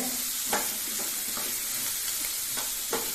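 Onions and vegetables sautéing in a pan for a dry seer fish kuzhambu, a steady close sizzle broken by soft periodic scrapes of a stirring spoon.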